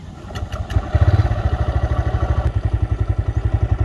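A TVS Raider 125 motorcycle engine is started after being repaired for an engine problem, and it settles into a steady, loud, rhythmic idle with regular firing pulses close to the microphone.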